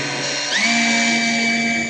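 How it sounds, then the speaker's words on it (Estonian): A power drill boring a hole in bone whines steadily, its pitch rising sharply as it spins up and then holding a high, continuous buzz close by. "Katsetame kõigepealt augu puurimist."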